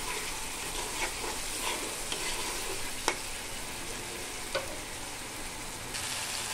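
Egg bhuna fries in a pan with a steady, quiet sizzle while a utensil stirs and scrapes it, with a few sharp clinks against the pan in between.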